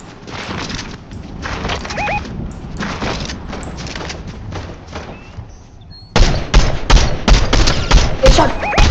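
Gunfire in the video game Fortnite: rapid bursts of loud, close shots repeat in clusters, growing heavier toward the end, mixed with game effects.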